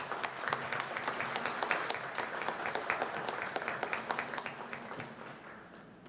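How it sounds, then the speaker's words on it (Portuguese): An audience at an honorary citizenship ceremony applauds in a sustained, dense round of clapping, with a few louder individual claps standing out before it tapers off. "Vamos dar uma salva de palmas"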